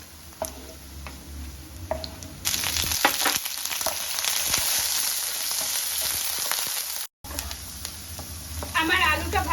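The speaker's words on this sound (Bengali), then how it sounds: "আলুগুলো ভেজে নেব।" Potatoes frying in hot mustard oil sizzle steadily in a pan, the sizzle swelling louder partway through, with light stirring clicks and a brief gap near the end.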